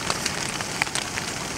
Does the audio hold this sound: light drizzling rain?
yes